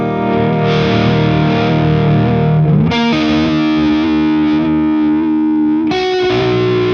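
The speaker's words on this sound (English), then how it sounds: "So it's a fully like chorus sound." Sustained electric guitar chords through a JHS Unicorn v2 univibe pedal set fully wet, drenched in a thick, swirling chorus-like modulation, loud and distorted, with a new chord struck every few seconds.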